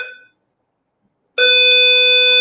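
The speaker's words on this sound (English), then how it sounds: "Well, that's a fire alarm." A fire alarm in a high-rise building sounds a loud, steady electronic tone that cuts off briefly, then returns and holds, close and alone.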